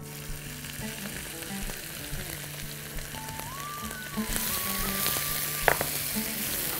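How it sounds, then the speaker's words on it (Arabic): Peppers frying in oil in a hot pan, a steady soft sizzle that swells louder partway through, with light stirring clatter and a brief sharp knock near the end. "طيب انا عندي طاسه سخنه، هنزل بشويه زيت وناخد الفلفل"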